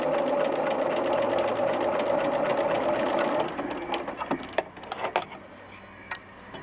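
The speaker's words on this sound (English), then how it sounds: "So, now we are going to start sewing." A sewing machine stitches quilt fabric, running in a steady, fast mechanical whir for about three seconds, then stopping, followed by faint taps and handling clicks.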